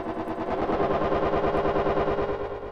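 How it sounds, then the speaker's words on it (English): Sampled music in samplebrain, processed with a replica delay effect, throbs in a fast, steady, pulsing rhythm with smeared, echoing repeats, loud and continuous with no voices. "Let's get some replica delay here as well."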